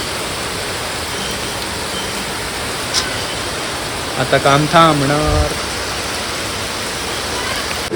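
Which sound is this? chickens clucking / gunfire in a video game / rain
rain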